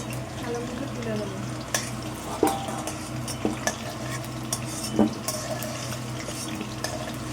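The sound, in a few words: potatoes being lightly fried in a pan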